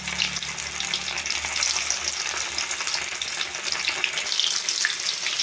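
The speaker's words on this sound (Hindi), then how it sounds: "फुल स्पीड पर हम इसे फ्राई कर रहे हैं" A few pieces of Bombay duck (bombil) fish deep frying in hot oil at full heat, a loud continuous crackling sizzle that holds steady throughout.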